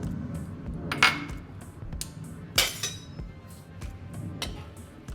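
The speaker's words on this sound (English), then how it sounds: "I'm going to grab my plate and just place it under like that." A dinner plate set down with a couple of clinking knocks against a kitchen surface or pan, ringing briefly amid quiet background clatter, alongside a serving of Cajun shrimp and rice.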